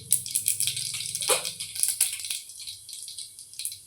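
Cumin and mustard seeds tossed into hot oil for stuffed brinjal, bursting into a close, steady crackling sizzle with sharp popping spatters that carries on throughout.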